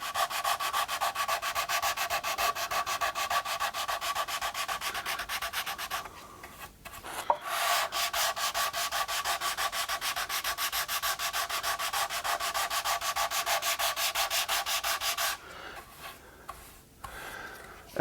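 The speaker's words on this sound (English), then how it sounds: "Just let the sandpaper do its job." Sandpaper is worked by hand over a guitar's wooden top in steady, rapid back-and-forth scrubbing strokes, close and even, with a short pause partway through before it eases off near the end.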